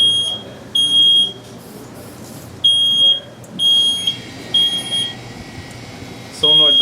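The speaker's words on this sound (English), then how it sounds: "That's the smoke alarm." High electronic smoke alarm beeps sound during a gas stove test, in separate bursts, some long and some short, over a steady low hum and some background noise.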